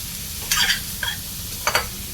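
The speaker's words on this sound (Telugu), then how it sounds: "వేయించుకోవాలి వేగుతుంది" Ivy gourd (dondakaya) fries in a pan under a low, constant sizzle, with three brief scraping bursts as a spoon stirs it.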